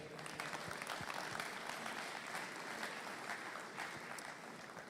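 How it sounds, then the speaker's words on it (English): Audience applause for an agtech accelerator advisory council at a farm show event, a steady wash of clapping from a crowd, moderately distant and even throughout. "Let's give them a round of applause there."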